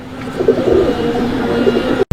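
A male pigeon coos in a steady, close, throaty murmur of repeated rolling calls that carries on without pause, then breaks off sharply at the very end.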